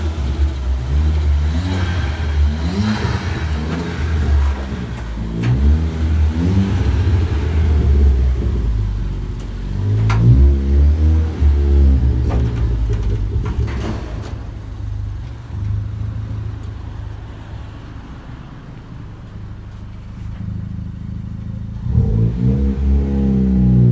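Ford Fiesta ST with a Revo Stage 4 tune revving on a dyno during a low-boost run, a loud, close engine drone rising and falling through several pulls, no voices.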